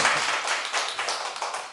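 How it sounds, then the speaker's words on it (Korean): Congregation clapping together during a Sunday church service, a dense, steady patter of many hands that carries on evenly for the whole short stretch with no voices over it. "우리 박수 한번 쳐줍시다"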